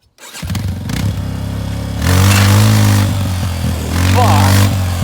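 A Yamaha engine runs loud and close at a steady roar with a few throttle surges while it is used to pull the engine out of a Polaris.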